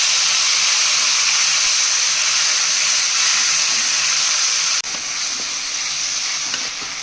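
Onions and tomatoes sizzle loudly in a pan, a steady bright hiss that continues throughout, dipping briefly once before resuming.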